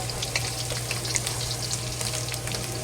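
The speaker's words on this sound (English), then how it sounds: "And slowly fry the ginger and the scallion" Ginger and scallion frying slowly in oil for a chicken and potato stew: a steady, even sizzle with light crackles, alone over a low constant hum.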